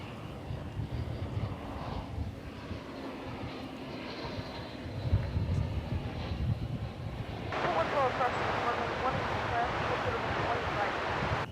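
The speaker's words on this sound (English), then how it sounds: "That was American 942 coming in from Albuquerque, New Mexico on a Airbus A321." American Airlines Airbus A321 airliner landing at DFW after a flight from Albuquerque, a faint, distant engine rumble that grows into a louder broadband roar near the end, with someone speaking over it.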